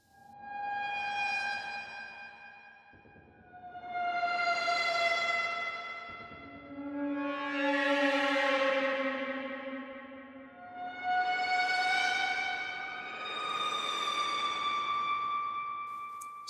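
A psytechno synth preset in Ableton Live plays long, bendy pitch-bend tones, five sustained swooping notes that rise and fall with rich harmonics and a resonant low drone in the middle, clear and alone.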